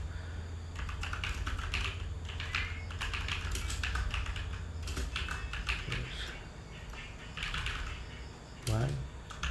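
Computer keyboard typing in Google Docs: quick irregular clusters of close key clicks and taps, with pauses between bursts and a low steady background hum.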